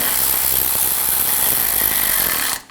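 A power tool drives screws into the front bumper cover of a 2013-2022 Buick Encore 1.4L, a steady close whirring hum that runs without a break and cuts off at the very end.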